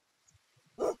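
Short cartoonish dog bark from the auto-battler game Super Auto Pets, a single brief woof at the end after a few quiet clicks, heard alone.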